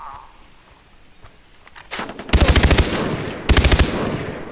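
Gunfire in the video game Far Cry: two loud, close bursts of rapid automatic shots, each about half a second long, with a rising rumble and rustle before the first burst.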